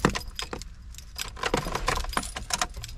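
Keys jangle and clink loudly in quick bursts as they are fitted into the ignition of a Mitsubishi Pajero 4WD, with metallic rattles up close and no talking.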